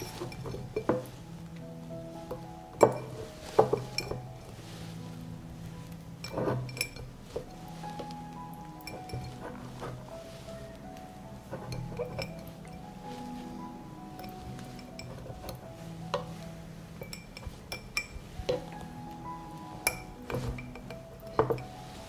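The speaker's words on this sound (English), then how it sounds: "I will fill the jars with tomatoes." Glass jars are filled with tomatoes, giving scattered clinks and light taps of glass with soft handling noises in between, fairly quiet and close, with no talking.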